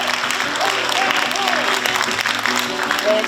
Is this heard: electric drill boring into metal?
no